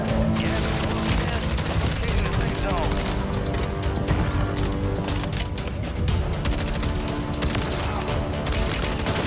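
Dense bursts of MCW rifle fire in Warzone Zombie Royale, rapid shots overlapping with crashes and explosions in a continuous loud barrage, with a voice talking over it.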